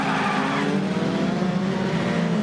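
Rally race cars on the BRally May 2023 event circuit, a pack of them droning around the track together in a steady, continuous engine roar with slight tire noise, fairly close and with no voices.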